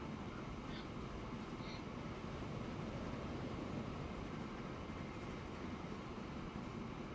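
Trains in the Transport Fever railway simulation game roll along the tracks with a steady low rumble, continuous and fairly quiet throughout, like a railcar passing at moderate distance.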